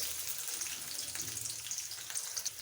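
Chopped onion frying in hot oil in a wok, a steady close sizzle and crackle with bright hiss throughout, no talking.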